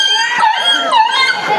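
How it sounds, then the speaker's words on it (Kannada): A dog yips and whimpers in short, high, close bursts that repeat across the moment, with a faint voice underneath. "ಇದು ಅಡುಗೆ ಪಕ್ಕದ ನಾಯಿದೆ"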